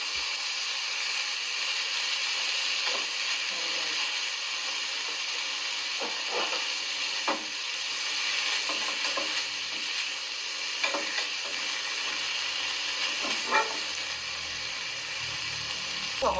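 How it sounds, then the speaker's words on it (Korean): Gochujang-marinated bulgogi pork frying in a pan with almost no liquid, giving a steady close sizzle with scattered crackles and pops and the occasional scrape or stir of a utensil, no voices. "고기가 조리는 것처럼 국물이 없이 아주 자작하게 구워주시면 더 맛있어요"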